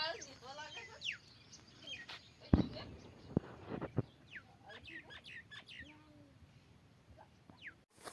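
Small birds chirp and tweet in scattered quick calls while feed is put out for sparrows, fairly faint and distant, mixed with occasional clucks, thumps and household clatter.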